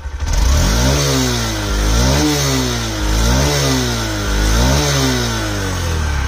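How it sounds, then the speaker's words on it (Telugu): A Honda Livo 110cc motorcycle revs repeatedly, its exhaust note climbing and falling in about four steady cycles over a continuous engine drone, loud and close with no talking. "ఎగ్జాస్ట్ నోట్ అయితే వినండి ఒకసారి."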